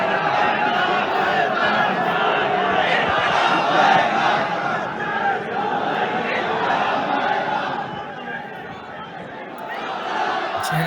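A large crowd at a funeral prayer at Faisal Mosque chants slogans in unison, a dense, continuous roar of many voices with rising and falling waves, heard from within the gathering.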